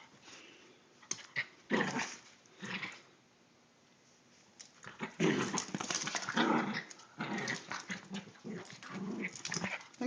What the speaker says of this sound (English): This crazy dog right here.